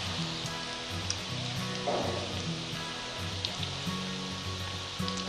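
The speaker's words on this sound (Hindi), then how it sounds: "थोड़ा कलर आ गया, धीमी आंच पर फ्राई करते।" Baby corn fritters frying in oil on low heat, a steady soft sizzle and bubbling that runs throughout with faint crackles, close and alone.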